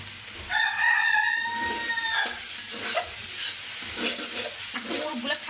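Banana stem fried with ground spices in a village kitchen, with a steady sizzle and rhythmic stirring scrapes, while a rooster crows loudly nearby at the start.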